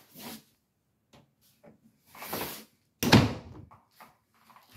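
A pantry door in a single-wide mobile home opens with a couple of short wooden rubbing and knocking sounds, close and moderately loud, separated by brief quiet gaps.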